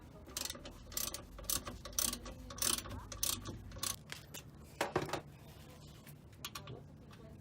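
Ratchet tightening bolts on a rear 30mm roll center adjuster for a Lexus GS430/GS400/GS300, close mechanical clicking in uneven bursts with metallic rattles, fairly quiet.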